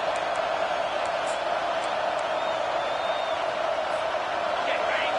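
A football stadium crowd roars on a fourth-down play, a steady wash of distant cheering with scattered whoops and whistles under a commentator talking throughout.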